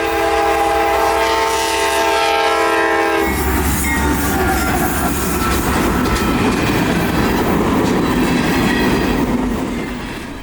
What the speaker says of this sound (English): we'd set up quickly for northbound train L783 returning from Port Manatee